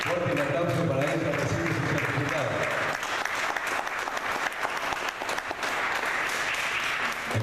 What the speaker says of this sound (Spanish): Fuerte un aplauso para ella.